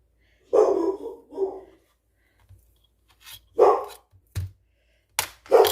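A dog barks in a few loud, separate bursts with short quiet gaps between them, fairly close by.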